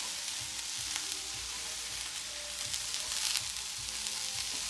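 Red pepper sizzling in a hot oiled pan while fried rice cooks, a steady bright frying hiss throughout with occasional stirring clatters. The sizzle stays close and fairly loud, with no talking.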